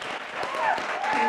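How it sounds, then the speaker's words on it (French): Brief applause from a book-club audience for three guests, a short burst of clapping with voices and cheering mixed in, moderately loud throughout. "J'aimerais qu'on applaudisse pour nos 3 amis"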